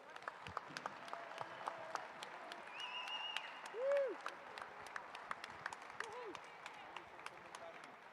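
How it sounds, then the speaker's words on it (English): Applause from a crowd, a steady patter of many hands clapping at moderate distance, continuing throughout with a brief louder swell near the middle. "A round of applause for all of the officials."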